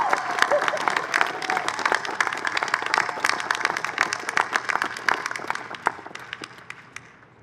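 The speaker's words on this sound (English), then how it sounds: "Please give a warm round of applause for the man we wisely chose as our graduation speaker" A graduation ceremony crowd gives a warm round of sustained applause, dense clapping that fills the hall and then fades out toward the end.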